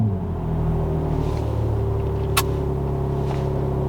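A BMW M3 Touring engine turns over outdoors in Northern Germany, then settles into a deep, steady idle rumble close by, with one brief sharp click partway through.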